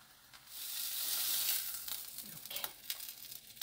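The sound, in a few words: napa cabbage buckwheat pancake sizzling in frying pan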